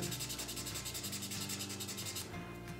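Steady abrasive rubbing of 400-grit sandpaper across plastic on a diecast Ferrari Testarossa model, continuous back-and-forth strokes, close and fairly loud with no talking.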